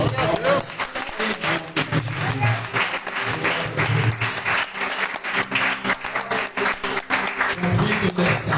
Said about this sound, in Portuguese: Erga as mãos aos céus e dê uma linda salva de palmas.